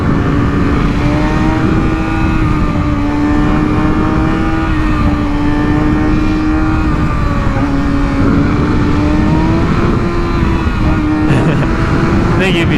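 Kawasaki ZX6R sport motorcycle on a riverside road, engine loud and close with a sustained high whine that rises and falls slightly as the throttle is held through a wheelie, heavy wind rush throughout.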